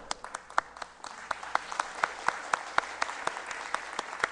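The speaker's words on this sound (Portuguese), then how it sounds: "Elias, dá para dar uma levantadinha aí só para o pessoal aplaudir você?" An audience at the FISL 16 free-software conference, attending a talk on Blender, applauds an illustrator in the room with dense, steady clapping and sharp individual claps standing out throughout.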